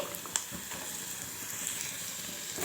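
Cut potato pieces frying in hot oil in a pan, giving a steady low sizzle and crackle throughout with one brief sharp clink near the start.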